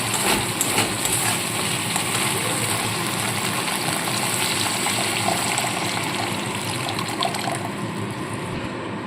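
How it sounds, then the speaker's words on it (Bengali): Water poured into a pan of fried spice paste for a Bengali pabda fish curry, giving a steady, continuous rushing gush throughout with no talking. "এবার এখানে আমি পরিমাণ মতো জল দিয়ে দেবো"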